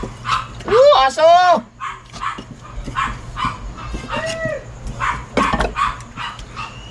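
A dog gives several sharp barks and yips close by, mixed with excited voices talking loudly over and between the barks.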